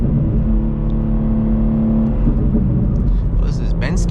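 Steady engine drone from a BMW G87 M2 while driving, a continuous low rumble with a held tone, loud and close throughout, with voices talking over it near the end.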